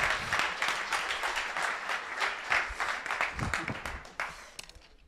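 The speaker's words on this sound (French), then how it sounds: "On applaudit." An audience at a French startup pitch night bursts into applause, a dense wash of many hands clapping close by that fades slightly toward the end.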